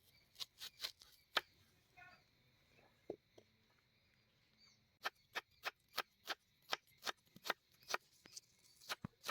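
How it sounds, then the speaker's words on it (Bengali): A knife chops onions and green chillies on a board while preparing yogurt chicken, in quick, light, rhythmic taps that pause briefly and then resume in a fast, steady run, close but quiet. "বিজয় পেঁয়াজ লঙ্কা কেটে নিচ্ছে"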